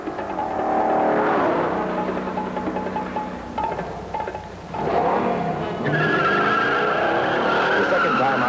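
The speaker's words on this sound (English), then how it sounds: "when we blasted it, the car roared out of the hole" A 1968 Oldsmobile Hurst Olds accelerating hard at a drag track, loud engine roar with screeching tires and rising revs through gear changes, with a narrator's voice over it.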